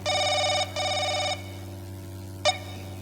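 A telephone rings with an electronic warbling tone in two long bursts, followed by a brief third chirp, heard close against a steady low hum.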